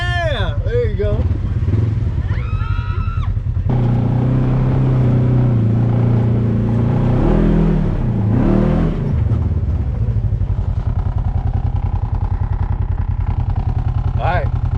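An off-road vehicle engine revs and drones steadily up close on a Colorado trail, its throttle rising and falling throughout, with people talking over it.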